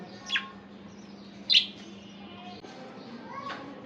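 Two short, bright budgerigar chirps ring out close by, one early and one louder a second later, then faint twittering against a quiet background hum as the birds come down to a food bowl.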